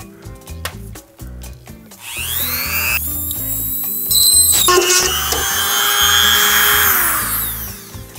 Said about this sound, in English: I'm going to use the rotary tool with a drill bit tip